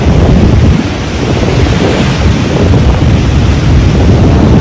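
Rough sea waves surging onto the shore at Kannanthura on a stormy coast, a loud, continuous roar of surf heavily mixed with wind buffeting the microphone.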